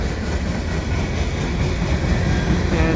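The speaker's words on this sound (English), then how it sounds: "some nice freights coming through here at Dorval" A CN westbound freight train rolls past at Dorval on a mild winter afternoon, a close, continuous rumble of wheels and cars with faint rhythmic clatter, no voices.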